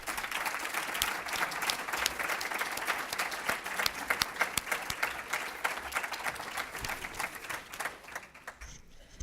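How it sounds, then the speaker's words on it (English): Applause at a 2014 Texas Senate District 4 candidate forum: a crowd claps steadily and densely for about nine seconds, then the clapping thins out and fades at the end. "let's give the candidates one more round of applause."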